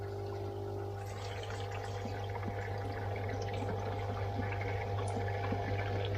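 Steady water flow from an auto top-up line running into a low koi pond outdoors, a continuous, even trickling and splashing wash with a constant low hum beneath, unbroken throughout.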